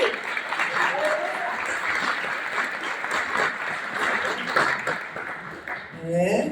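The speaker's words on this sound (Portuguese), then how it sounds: "Pode aplaudir, pode aplaudir." A church congregation applauds at a thanksgiving service, a steady wash of many hands clapping with a few voices rising through it before it fades.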